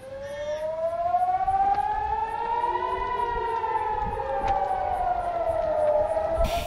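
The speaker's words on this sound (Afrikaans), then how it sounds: "Enkele ure na die aankondiging is sirenes in Haifa in Israel gehoor" Air raid siren wailing over Haifa, Israel, a single long rising and falling tone that swells and holds steadily loud from a distance, with no voices.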